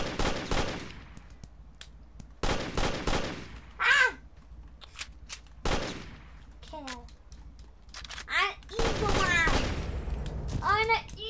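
Bursts of Nerf gun fire in the video game Amazing Frog, rapid broadband volleys repeating in several clusters, mixed with squeaky cartoonish game sounds and chirps, loud and close.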